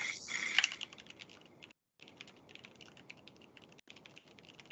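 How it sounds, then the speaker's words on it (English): Typing on a computer keyboard during an online chess coding session, a quiet steady patter of rapid key clicks with a couple of brief pauses, faint and alone. "that's probably me typing"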